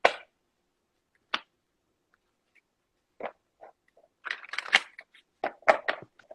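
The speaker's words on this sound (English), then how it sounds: "I'll shuffle." Someone shuffles a deck of cards up close, making a few isolated crisp flicks and then a quicker cluster of papery riffling bursts separated by quiet gaps.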